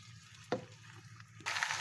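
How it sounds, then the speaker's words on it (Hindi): Potatoes and onions frying gently in a pan over low heat give a faint, steady background sizzle, broken by a brief scrape near the middle and a louder burst of sizzling toward the end. "5 से 7 मिनट तक हम इसको फ्राई करेंगे, जब तक कि हमारे आलू गल ना जाए।"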